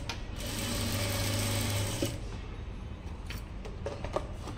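A sewing machine stitches a sleeve for about two seconds with a rapid, even, close mechanical whir, then falls quiet as fabric is handled with soft rustles and light clicks.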